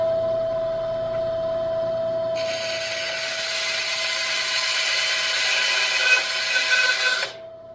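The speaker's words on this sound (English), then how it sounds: "Sharp bandsaw blade really helps." A bandsaw cuts through a tractor body panel, a steady high grinding whine that starts abruptly over a constant motor hum and runs several seconds before stopping; no talking.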